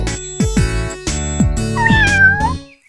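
A cartoon kitten meows several times in quick succession, bright high-pitched tonal cries rising and falling, close and clear, ending with a longer wavering meow before a brief silence.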